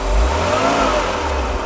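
A 1993 Mercedes-Benz G463 300GE engine, after repair of its fuel distributor, revs up loudly and steadily at close range, a dense sustained roar with no voices over it.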